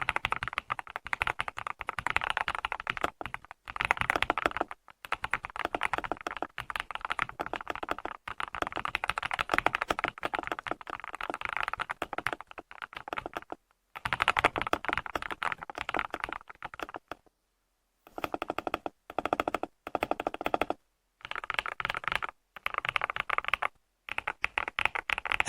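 Close, crisp typing on a mechanical keyboard with Blueberry Ice Cream switches of about 38 g actuation force, coming in quick rattling bursts broken by short pauses.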